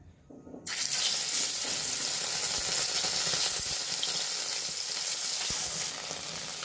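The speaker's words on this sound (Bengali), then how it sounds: "বন্ধুরা আমরা কড়াইতে তেল দিয়ে দিয়েছি, এখন আমরা মাছগুলো" River fish slid into hot oil in a wok burst into a loud, close, steady sizzle after a brief quiet moment, the crackling hiss holding continuously to the end.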